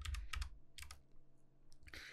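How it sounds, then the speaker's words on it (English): Computer keyboard keys are pressed in short clustered clicks, a few quick taps at the start, another pair in the middle and a final press at the end, close and moderately loud with no speech. "instead of F7, I'm gonna press F6"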